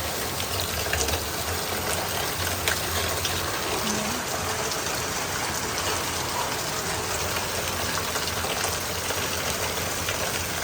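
Rainwater pours heavily through a damaged roof during a downpour, a steady, loud rushing and splashing of water that continues without a break.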